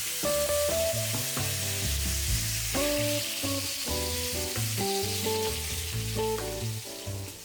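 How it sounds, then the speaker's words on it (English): Steady sizzling of a rib-eye steak searing in hot oil, continuous and close, with melodic music playing over it throughout. "when we put in our steak, we should be hearing this sizzling sound"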